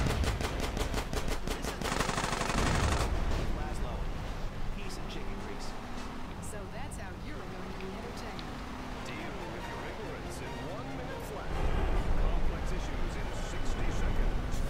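Bursts of gunfire in a Grand Theft Auto: San Andreas shootout set in San Fierro, loud rapid shots at the start and again near the end, with a steady game soundscape between and a voice talking over it.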